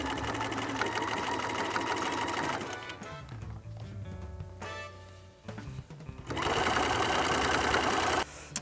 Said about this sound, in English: I'm gonna go over to my machine and make this stitch